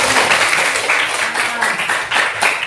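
A classroom of students clapping their hands together in a lesson, a loud, dense patter of claps with rhythmic surges throughout.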